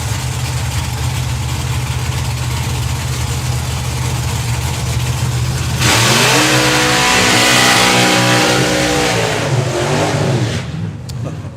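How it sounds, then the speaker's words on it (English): Drag racing cars do burnouts at a strip: a loud, steady engine roar holds for several seconds, then erupts into a louder screaming rev with rising and falling pitch sweeps that gradually fades. "Let these two do their burnouts"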